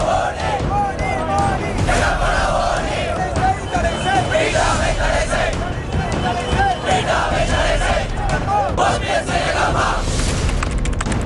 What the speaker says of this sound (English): the crowd swelled further